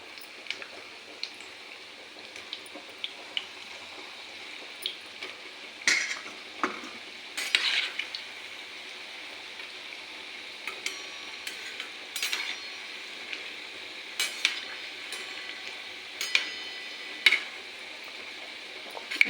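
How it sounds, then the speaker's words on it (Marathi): Gulab jamun frying in oil over a low flame, a soft continuous sizzle punctuated by occasional light clinks and stirring taps from a utensil, close and quiet with no talking. "मंद आचेवर गुलाबीसर तळून घ्यायचे."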